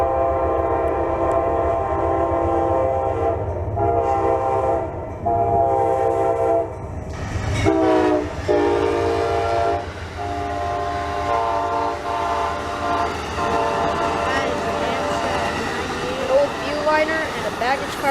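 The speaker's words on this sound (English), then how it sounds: "Northbound Amtrak 98, the Silver Meteor. This guy was highballing through the Folkston funnel." Northbound Amtrak 98, the Silver Meteor passenger train, races past at Folkston with a long, blaring horn and rolling wheel and rail noise. The sound is loud and close.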